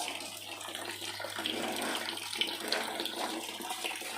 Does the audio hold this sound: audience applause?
no